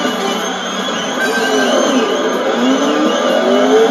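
A Ferrari Testarossa races in the arcade game OutRun 2, its engine roaring loud and close with rising revs and faint tyre squeal, steady throughout.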